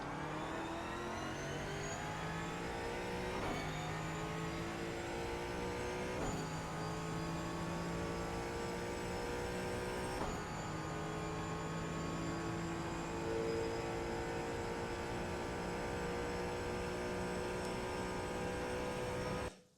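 A Ford Mustang GT4 in the iRacing sim, at the Miami Grand Prix circuit, pulls hard under acceleration, its engine note rising steadily through several gear changes. It is loud, close and continuous, with no talking.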